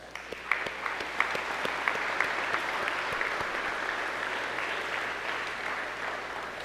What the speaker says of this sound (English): Let's give this faculty a big round of applause.